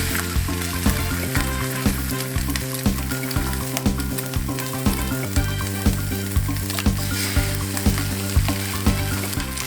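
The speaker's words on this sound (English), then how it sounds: "Let that fry for a minute." An egg frying in a hole cut in a bread slice, a constant sizzle in the pan beneath loud rhythmic background music with a regular beat.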